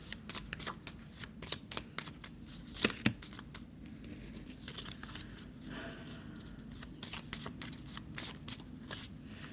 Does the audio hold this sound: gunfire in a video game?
no